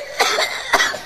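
A deep, baritone-style cough imitated by a voice, two rough bursts roughly half a second apart, close and fairly loud.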